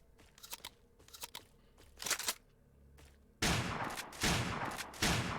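Shorty 590 shotgun fired in a video game's swamp zone: a few scattered, softer shots, then several loud, heavy blasts spaced about a second apart, each with a booming tail, with no talk.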